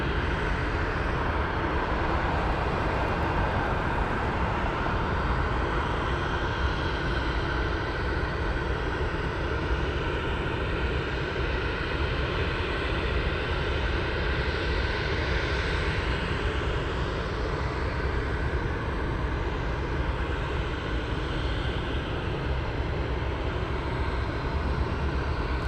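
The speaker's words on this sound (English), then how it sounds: "we have a Mad Dog MD-83 taxiing to the Everett's parking area" A McDonnell Douglas MD-83 airliner taxis at Anchorage airport, its engines producing a loud, continuous broadband roar that holds steady throughout.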